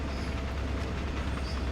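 Steady low diesel drone and rumble from a GP38-2 locomotive hauling a freight train at night in Train Sim World 2020, constant and moderately loud with a faint tonal hum, no speech.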